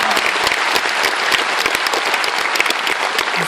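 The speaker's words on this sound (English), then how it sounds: "I'd ask you to give a round of applause to our Colour Party." An audience at an Irish citizenship ceremony in Dublin's convention centre claps for the Colour Party, a loud, dense and sustained round of applause from a large crowd.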